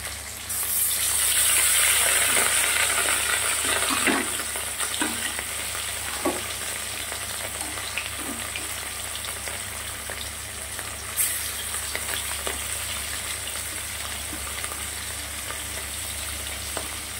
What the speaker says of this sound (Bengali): কড়াই তেলটা গরম হয়ে গেছে, মাছগুলোকে ভালো করে ভেজে নেব।